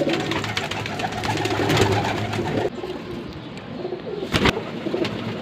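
Domestic pigeons, including a seven-year-old female, cooing near and far among other birds in a loft, with soft continuous murmuring calls and a brief louder flutter or burst near the end.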